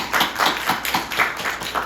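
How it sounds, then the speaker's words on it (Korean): A church congregation claps briefly after a Korean service announcement, a light, fairly sparse patter of hands with distinct individual claps at a moderate distance, no voices over it. "우리 다 우리 박수로 한번 위로해 주세요."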